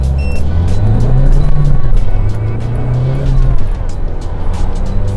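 A loaded Isuzu 1.9 pickup in a tuned engine mode accelerates hard from standstill toward 100 km/h, its loud engine drone climbing in pitch, easing briefly at a gear change, then pulling again.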